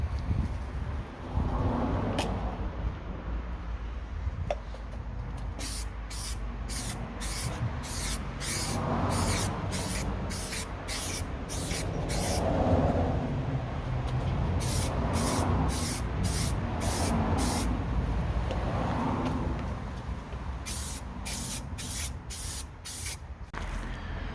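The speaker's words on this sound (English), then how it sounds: "Keep it probably about 15-20 centimeters away from where you're spraying, and then just nice smooth long strokes." Rapid bursts of hissing aerosol spray paint on a BMW 5 Series E60 parcel shelf in quick repeated runs, close up, over a low rumbling background with pauses between sets.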